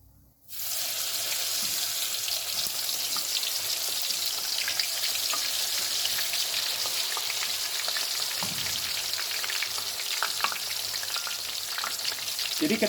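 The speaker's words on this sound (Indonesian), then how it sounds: "Kita akan lanjut menggoreng yang dibelah." Split Sumedang tofu frying in hot oil, a steady dense sizzle and crackle that holds loud and even throughout, with faint occasional stirring and no talking.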